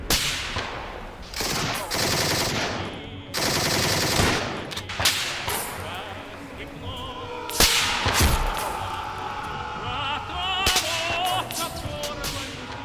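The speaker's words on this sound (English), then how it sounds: "this gunfire kind of like goes on for a while" Bursts of machine gun fire crackle through a battle on the Roblox Eastern Front, with rapid volleys, sharp single shots and thuds coming in waves, some close and loud, others more distant, with no talking.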